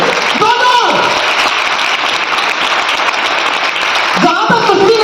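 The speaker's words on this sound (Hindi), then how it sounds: "इतनी सी ताली आनी चाहिए क्या?" Sustained audience applause fills a company's second anniversary celebration, a dense steady clapping wash from a large crowd, with a voice briefly speaking over it at the start and end.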